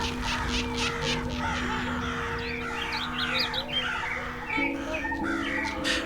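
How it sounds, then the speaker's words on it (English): Crows and other birds cawing and chirping behind a closed door, a busy, muffled chorus of overlapping calls over a steady low hum, with no one speaking. "An array of birds or something like that,"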